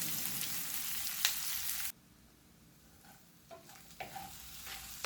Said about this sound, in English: I'm sauteing the onions.